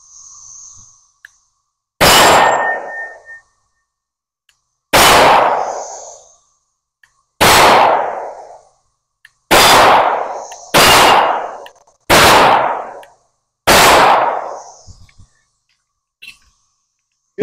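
Seven loud, sharp handgun shots fired one at a time at a range test, each a close, booming crack with a long ringing tail, spaced a second or two apart with quiet gaps between.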